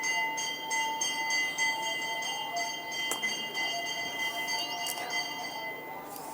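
A bell rings with sustained metallic tones, fairly steady and continuous at moderate volume, with a few sharp clinks layered over a soft background.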